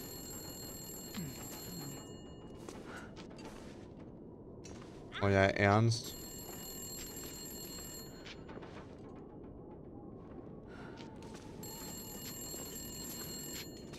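A telephone rings once in The Long Dark, a short, loud burst of bell-like trilling over quiet ambient game sound, while someone speaks briefly.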